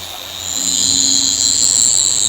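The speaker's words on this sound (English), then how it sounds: "I've got like 1 pound of pressure on the polisher." A car polisher runs on a headlight during a restoration, held with light pressure, giving a steady loud high whine that rises slightly after the start and holds constant.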